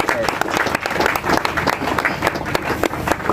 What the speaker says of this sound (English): Please clap for yourself. Clap for yourself.